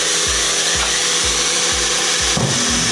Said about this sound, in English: So I was just going to drill through that.